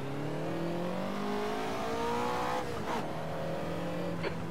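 A Ferrari race car pulls out of the pit lane at the Mas du Clos circuit, its engine rising steadily through the gears in a loud, close whine, with a brief shift dip before revving again.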